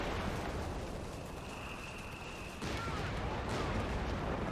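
In the Company of Heroes 3 strategy game, artillery shells strike enemy buildings. There are distant, muffled explosive impacts, and a sharp burst rises partway through over a steady low roar of battle noise.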